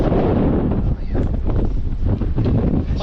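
Strong, roaring wind gusts buffet the microphone during rain on a North Luzon road trip, a continuous loud rumbling rush with no clear breaks.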